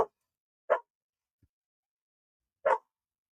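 Dogs barking indoors while waiting to be fed, with two separate loud barks spaced about two seconds apart and quiet between them.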